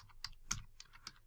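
Rapid keystrokes on a computer keyboard, a handful of crisp, close clicks in an uneven rhythm while entering code in an editor.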